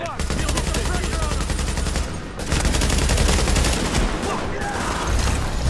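Sustained automatic gunfire from The Division video game rattles dense and loud, with rapid overlapping shots forming a continuous fusillade that briefly drops out before resuming at full intensity.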